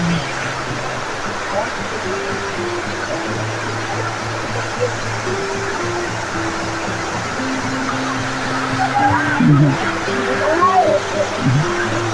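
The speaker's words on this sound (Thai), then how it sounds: "โอ้น้ำตกแรงมากเลย" Powerful waterfall in Kanchanaburi, Thailand, pouring down over flooded steps, heard as a steady broadband rush running throughout, with a crowd of visitors talking and calling over the water.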